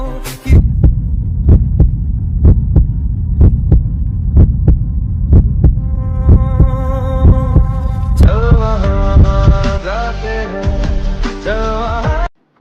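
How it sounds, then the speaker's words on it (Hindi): A rapid heartbeat thumps loud and steady, thudding over a low hum with no talk, and a bright tonal music layer comes in partway through. "तुम्हारी वॉइस सुनते मेरी दिल की धड़कनें तेज हो गई"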